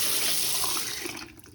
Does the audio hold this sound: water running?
yes